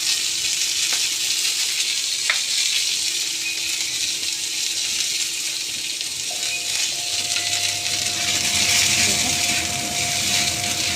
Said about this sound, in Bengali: গোটা জিরে দিয়ে দিলাম। আমি এবারে ছোলাটা ভুট্টাটা দিয়ে দেবো।